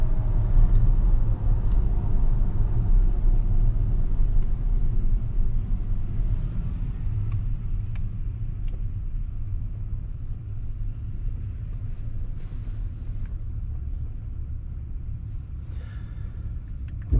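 A Tesla on FSD Beta decelerating to a stop in daytime traffic: steady low road rumble and tyre noise that gradually eases, with faint cabin sounds and no talking.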